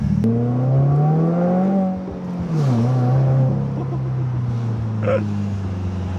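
A Subaru WRX with a stock tune and a Remark 4-inch double-wall axleback exhaust drones loudly and steadily, dipping as revs fall, with faint pops and crackles near the end.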